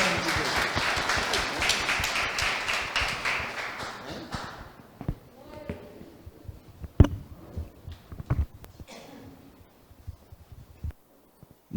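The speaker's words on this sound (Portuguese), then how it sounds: "Você pode aplaudir o Senhor?" A church congregation applauding at a family worship service, loud dense clapping that thins out after a few seconds into scattered claps, taps and shuffling, with faint voices underneath.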